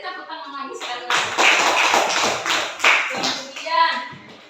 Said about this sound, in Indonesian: Beri tepuk tangan lagi sekali lagi.